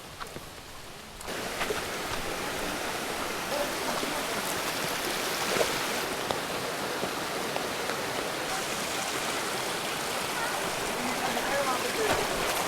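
Water in a forest river rushes steadily close by, a continuous broad splashing flow with no clear breaks.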